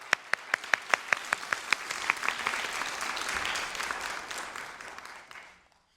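An audience at a lecture on cinema, war and conscience applauds Ambassador Giang as he comes to the podium. Sharp close claps lead into a swell of group applause that builds, then fades out to silence.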